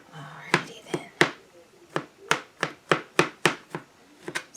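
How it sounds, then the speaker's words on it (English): A kitchen knife chops through mushrooms on a cutting board, about a dozen crisp, close knocks in an uneven but steady rhythm, with no talking. "Just going to chop through this again."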